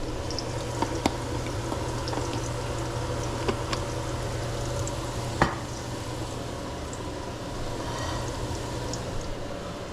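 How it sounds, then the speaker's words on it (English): Plantain frying in hot, slightly smoking oil gives a steady, dense sizzle throughout, with a few sharp clicks and pops of utensils nearby and a fan running. "This plantain is frying"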